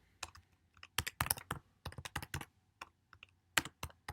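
Typing on a computer keyboard, with quick irregular bursts of close, crisp key clicks separated by short pauses, heard alone without talk.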